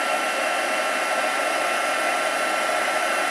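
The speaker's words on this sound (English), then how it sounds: "as the embossing powder melts" A heat tool blows a steady, loud, unbroken whoosh like a hair dryer while melting embossing powder on a crafting project, with no talk.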